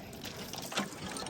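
Water splashes and trickles as a face is washed at home, a faint wet pouring sound with a brief splash near the middle.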